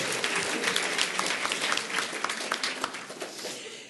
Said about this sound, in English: Let's give a round of applause to you all.